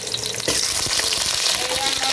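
Butter hits a hot pan holding whole spices (cardamom, cloves, shahi jeera, bay leaves) for Arabian kabsa, bursting into loud, steady close-up sizzling after a brief quieter start, with no talk.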